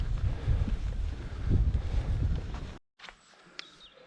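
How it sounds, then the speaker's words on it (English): Strong wind buffets the microphone near a hilltop on a Lake District hike, a loud rumbling gust that cuts off abruptly, leaving faint quieter outdoor sounds. "Oh, hang on, the wind's just picked up."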